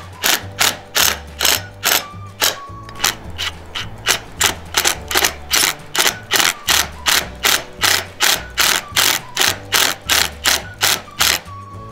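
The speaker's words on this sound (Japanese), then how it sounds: "今度はインパクトドライバーでビスを締結していきます" An impact driver hammering concrete screws through a steel angle into concrete, a loud fast rapid-fire rattle of impacts in repeated bursts with brief motor whirs between, close and continuous.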